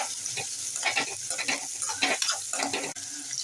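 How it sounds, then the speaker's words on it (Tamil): Chopped big onions with fennel sautéing in a pan, a close, busy sizzle broken by quick scraping stirs throughout a few seconds, with no voices. "வெங்காயத்தை நல்லா வதக்கி விட்டுக்கலாம்"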